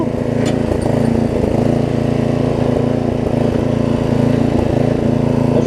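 A Murray riding lawn mower engine runs steadily after valve grinding and ignition work, a close, loud, even putter with a fast regular pulse throughout and no talk.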